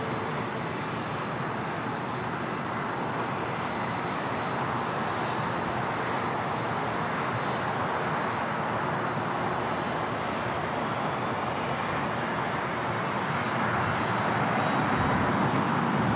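Delta Boeing 767-300ER jet arriving at LAX airport from JFK, a continuous loud roar of jet engine noise heard from outside, steady throughout and swelling slightly near the end, with no voices.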